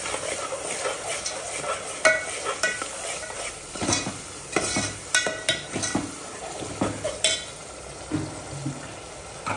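Paneer biryani mixture with curd is sautéed in a pan, with brisk, close spatula scrapes and clinks in an uneven rhythm over a continuous hissing sizzle.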